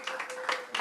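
Brief scattered applause from the audience at a public council meeting, a light patter of clapping in a large room, thin and not very loud.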